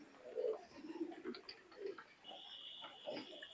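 A pair of Oman pigeons coo in soft, repeated low throaty phrases, fairly close, with a faint steady high-pitched whine running through the second half.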